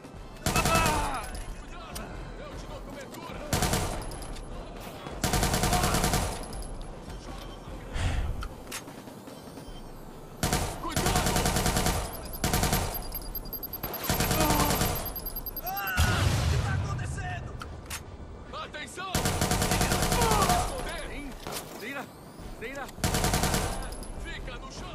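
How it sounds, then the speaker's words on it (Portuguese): Gunfire in the video game Watch Dogs 2 during a fight aboard a ship: repeated loud bursts of automatic fire and single shots come in clusters through the span, with a player's voice talking and reacting between them. "Levando tiro de todo lado."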